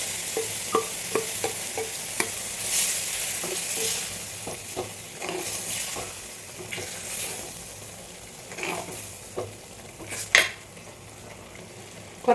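Ground coconut paste goes into a pan of cooked-down tomatoes for a curd curry, with a soft sizzle under intermittent spoon scrapes, taps and stirring clatter, moderately close with quiet gaps between.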